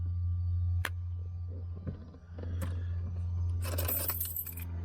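Keys jangle in a small propeller aircraft's cockpit just before engine ignition: a brief bright metallic rattle near the end, close by, over a steady low engine drone.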